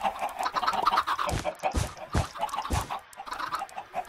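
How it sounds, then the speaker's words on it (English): Chickens in the Minecraft video game cluck repeatedly in quick overlapping calls, loud and close, clustered together without any talk. "Chickens! And they're all around my exit."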